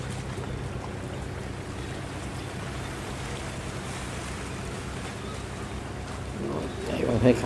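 A Vietnamese fishing boat engine drones steadily at high speed over rushing water and wind heading to Binh Ty port, with some talk mixed in and a louder splash near the end.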